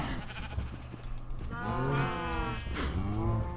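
Cows lowing in a Minecraft farm pen, several drawn-out moos overlapping one another, fairly close and steady over a low continuous background.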